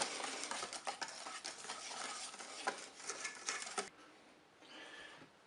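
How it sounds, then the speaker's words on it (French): A utensil stirs cake batter in a bowl until smooth, making a continuous soft, wet scraping and swishing that runs steadily, then fades into quieter, lighter strokes. "On va mélanger jusqu'à l'obtention d'une pâte lisse."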